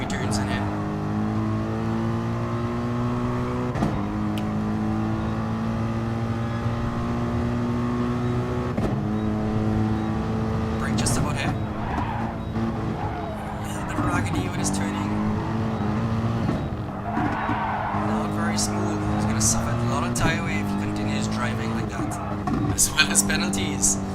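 Race cars in a racing video game run through a sweeping corner, engines droning steadily with rising and falling pitch and several gear changes, under continuous commentary talk.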